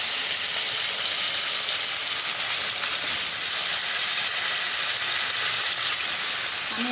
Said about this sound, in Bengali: তেলটা ভালো করে গরম হয়ে গেছে আমি এখন মাছগুলো দিয়ে দেবো আস্তে আস্তে